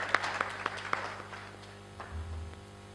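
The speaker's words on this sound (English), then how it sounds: "Another round of applause for Ms. Christmas." Brief spatter of audience applause at a 2014 graduation ceremony, a few sharp claps standing out at first, then thinning into faint scattered clapping with a low hum beneath.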